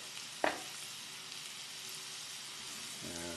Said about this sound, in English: Again, you should have a light sizzle.